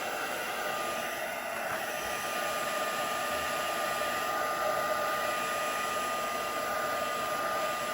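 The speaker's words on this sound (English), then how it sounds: "Always good to dry the front and the back." A hair dryer blows steadily on a patterned paper card, a loud, constant close whoosh with a broad hiss that holds unchanged throughout, with no voices.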